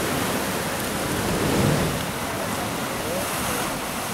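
Ocean surf surging at La Bufadora marine blowhole as it spouts seawater, a steady, loud, close wash of roaring water with a slight swell in the middle and wind buffeting the microphone.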